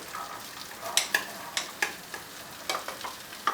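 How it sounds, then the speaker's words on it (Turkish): Onions sizzle softly in butter in a pot while a utensil scrapes and clinks against it in a series of sharp, close stirring strokes. "Soğanları yaklaşık bir dakikadır terletiyorum."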